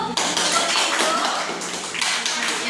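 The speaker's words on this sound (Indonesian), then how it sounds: "Kita ucapkan tepuk tangan dulu." A classroom audience at a school debate session breaks into quick applause that starts abruptly and holds as a close, dense patter, dipping briefly before swelling again.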